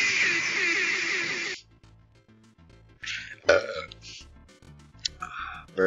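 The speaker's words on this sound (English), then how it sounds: "Burped" A loud, rasping burp fills the first second and a half, then gives way to scattered clicks, thumps and background music.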